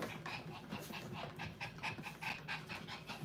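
A dog pants rapidly and rhythmically close by, quick breathy huffs repeating steadily for a few seconds with no talk over it.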